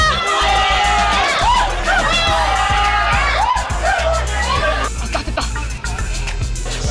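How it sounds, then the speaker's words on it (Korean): Students at a countdown for course registration roar with shouts and whoops, then the noise drops into mixed groans and chatter as voices overlap. "함성과 탄식이 엇갈리는 순간"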